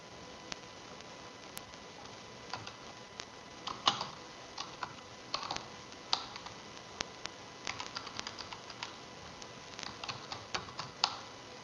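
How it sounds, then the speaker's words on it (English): Steady typing on a computer keyboard in a quiet room, irregular bursts of close, crisp key clicks with short pauses between, no talking. "And I type in"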